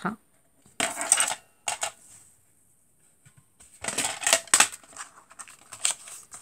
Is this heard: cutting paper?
yes